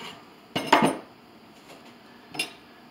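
A knife cuts an eggplant in half on a board, giving a loud double knock near the start and a lighter tap a moment later, close and alone with no talk.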